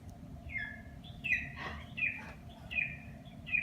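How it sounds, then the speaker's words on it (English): A recorded golden eagle call plays softly from a Google Assistant speaker, with about five short, high, piercing whistled cries repeating at a steady pace. "A golden eagle sounds like this."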